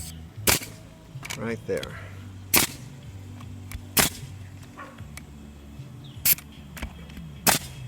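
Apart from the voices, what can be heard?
nail gun firing nails into roof skylight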